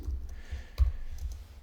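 Computer keyboard keys being typed while programming in C++, a few soft, sparse clicks over a quiet background.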